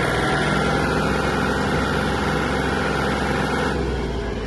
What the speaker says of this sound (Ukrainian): Трактор впевнено набирає швидкість